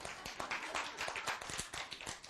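Clapping from a lecture audience, a quick run of sharp distinct claps from a modest group at close range, uneven in rhythm and steady in level, with no voices over it.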